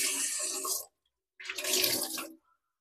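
A kitchen tap runs to fill a kettle for fresh hot water. It gives two bursts of close, splashing flow with a short silent pause between them, and the second burst stops abruptly.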